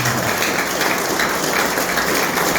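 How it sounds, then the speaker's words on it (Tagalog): A congregation claps loudly during a church service, a dense, continuous wash of many hands clapping together at close range with no voices over it. "Ang lahat ng may kahilingan sa Diyos ay pumalakpak ng malakas."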